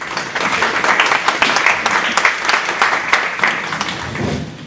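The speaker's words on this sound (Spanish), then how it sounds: "Le recibimos con un cálido aplauso" Applause welcoming a speaker at a linguistics congress, a few seconds of lively, close clapping with distinct individual claps that thins out toward the end.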